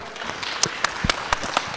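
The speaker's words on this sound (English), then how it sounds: "A round of applause, please, for Isaac." Brief applause from a conference audience at a mobile money panel, sparse claps with a few sharp distinct hand strikes over a soft crowd wash.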